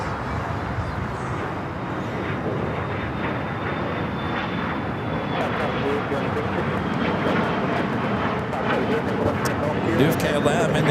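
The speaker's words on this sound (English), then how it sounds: "A couple of American 777s going to be taken off." An American Airlines Boeing 777 takes off from Los Angeles LAX bound for JFK, its jet engines a loud, sustained, broad roar that builds slightly as it climbs, with a voice talking over it.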